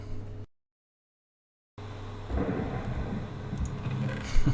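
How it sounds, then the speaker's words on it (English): A Minecraft thunderstorm rumbles and hisses with rain, a broad steady wash that cuts out to silence briefly, then returns with deeper thunder swelling near the end. "Oh no, another thunderstorm."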